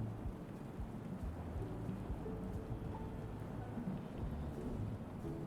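Steady rain pours during a real thunderstorm, with a low continuous rumble of thunder and rainfall beneath, constant and fairly faint throughout with no talking.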